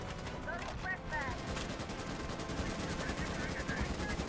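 Rapid, continuous gunfire from a Starship Troopers: Extermination video game battle rattles steadily throughout, with faint chirping effects near the start.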